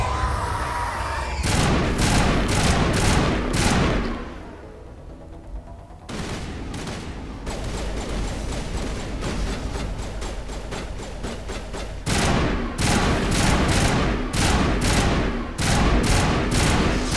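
Rapid bursts of pistol fire in the video game Mass Effect Legendary Edition, loud and dense repeated shots in several volleys with a short lull, over a constant game background.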